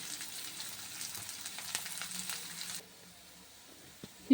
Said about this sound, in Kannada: ಸಣ್ಣದಾಗಿ ಹೆಚ್ಚಿರೋ ಈರುಳ್ಳಿ ಹಾಕ್ತಾಯಿದ್ದೀನಿ. ಅದನ್ನು ಒಂದು ನಿಮಿಷ ಚೆನ್ನಾಗಿ ಫ್ರೈ ಮಾಡಬೇಕು.